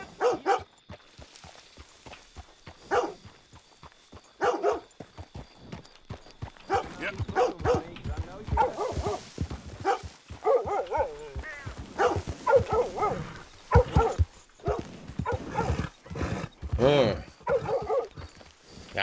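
A dog barks and yips in short bursts in the video game Red Dead Redemption 2, heard in the foreground with footsteps and someone talking in German over it.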